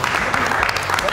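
Applause and cheering from a crowd of people at the final pre-production meeting before a Victoria's Secret fashion show, a dense steady burst filling the room up close.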